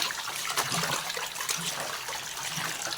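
Water running steadily while roughly five kilos of rooster chicken meat is rinsed, a continuous close splashing wash with faint trickles, no voices.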